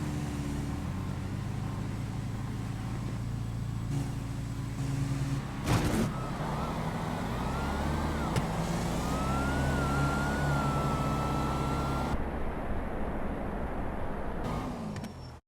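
No-prep drag race cars, one a Ford GT, launch at a street-racing event with a loud, sustained engine roar and a rising turbo-like whine that holds steady before cutting off.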